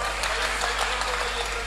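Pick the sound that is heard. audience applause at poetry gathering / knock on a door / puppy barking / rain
audience applause at poetry gathering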